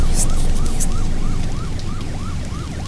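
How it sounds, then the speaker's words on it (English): A wailing ambulance siren in Nightmare House 2 rises and falls in steady repeating cycles over a dense, rumbling game soundscape with bright bursts early on. "Ambulance."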